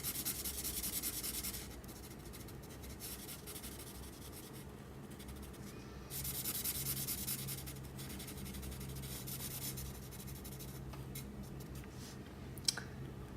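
Light green colouring being laid onto a drawing, a steady soft scratchy rubbing of the pencil that runs in long strokes with brief pauses, close and quiet, with no voice.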